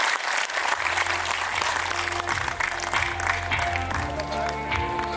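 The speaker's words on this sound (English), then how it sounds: "let's have a thunderous round of applause once again for all the distinguished guests here" A large audience applauds steadily, dense clapping filling the room loudly for several seconds without letting up.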